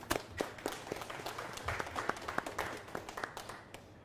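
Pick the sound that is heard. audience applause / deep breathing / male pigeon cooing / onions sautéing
audience applause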